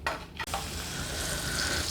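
Whole spices and chillies tempering in hot oil for a tender tamarind leaf rice, a steady broadband sizzle with occasional stirring scrapes of a spoon against the pan, close and continuous, no voices.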